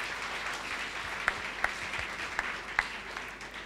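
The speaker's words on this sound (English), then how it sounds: "Give him a round of applause." An audience at a spiritual talk gives a moderate round of applause, a steady patter of clapping with a few sharper individual claps standing out, fairly close and without speech.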